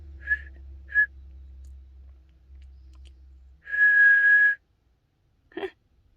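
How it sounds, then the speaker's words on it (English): A person whistles a few short high notes, then a longer steady whistled tone, alone and fairly close over a low background rumble. "I can still whistle."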